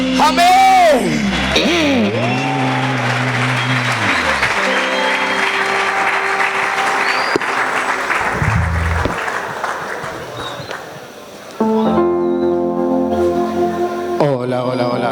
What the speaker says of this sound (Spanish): Un aplauso más fuerte.